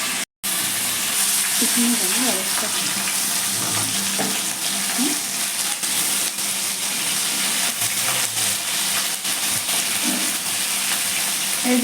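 Afghani chicken frying in a pan, a dense, steady sizzle close up that runs throughout, with faint clinks and a low voice murmuring in the background.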